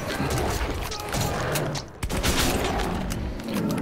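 Dense video game gunfire in a subway setting, rapid overlapping shots and bursts with booms running continuously and loud throughout, with a brief dip near the middle.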